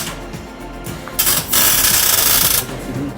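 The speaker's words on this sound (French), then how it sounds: "On a choisi de la soudure Omig, voilà, avec gaz," MIG gas welding tacks a steel box for a custom chest in a converted camper van, a loud crackling hiss lasting about a second and a half, starting in short bursts, over steady workshop hum.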